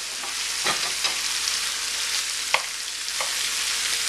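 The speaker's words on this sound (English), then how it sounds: "And then I'm going to throw in all the hairy melon pieces." Pieces of hairy melon fry in a pan with a continuous bright sizzle, close and even, with a few brief knocks and scrapes from a utensil and no talking.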